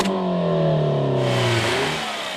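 A Peugeot 207 RC's 1.6-litre turbocharged direct-injection engine revs up hard, its rising tone climbing steadily and loud, then easing off near the end with a rush of intake and exhaust noise.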